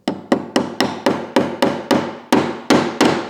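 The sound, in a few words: tapping track pins into model railway track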